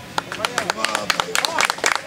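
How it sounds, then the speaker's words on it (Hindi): Hands clapping in quick, irregular bursts of sharp slaps, close and fairly loud, mixed with talking. "मैं सबसे पहले उनके लिए ताली बजाऊंगा"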